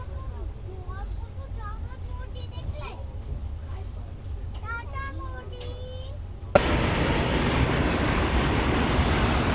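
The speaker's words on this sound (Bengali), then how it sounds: "এই ব্রিজটা রয়েছে আর যার উপর দিয়ে ট্রেন ক্রস করছে, এই নদীটার নাম হচ্ছে সোন নদী" A passenger express train crosses the bridge over the Son river, a low rumbling roll with faint squeals under scattered voices, then abruptly switching to a loud broad roaring rush of wheels and air.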